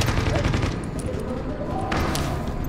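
Dense gunfire rattles in a firefight in The Division, with rapid bursts and thuds blending into a continuous barrage while players talk over the shooting.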